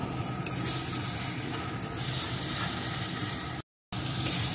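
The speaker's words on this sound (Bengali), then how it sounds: "এখন এটাকে বেশ কিছুক্ষণ এর সাথে কষিয়ে নেব" Soybean paste frying with spices in a pan, a continuous close sizzle with soft stirring scrapes and a brief gap near the end.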